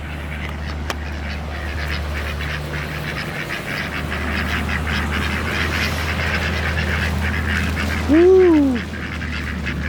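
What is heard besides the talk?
ducks at cemetery pond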